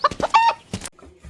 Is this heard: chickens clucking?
yes